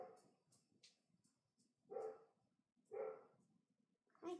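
A puppy named Daisy gives a few short, sharp barks and yips, roughly one every second, with quieter whimpering noises in between, all heard close by.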